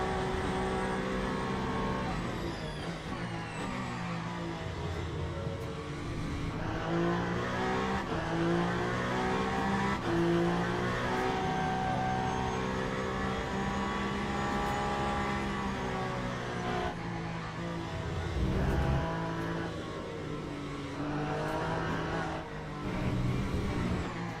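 Race car engine in the Le Mans Ultimate sim at Interlagos, revving up and down through the gears for the whole stretch, loud and continuous with shifting harmonic sweeps and no talk over it.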